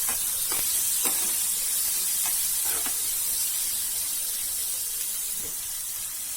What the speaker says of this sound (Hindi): नेक्स्ट ऑनियन, इनको थोड़ा सा फ्राई होने देंगे